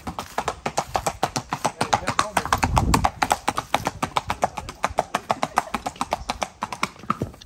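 A horse's hooves clip-clop at a steady, quick rhythm on a farm, close and distinct, with a brief rougher scuffing burst partway through.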